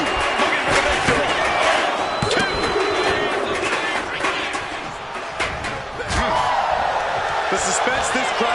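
A roaring wrestling arena crowd from the video game WWE 2K25 fills the clip, loud and continuous, with sharp slams and bursts of cheering over the constant din.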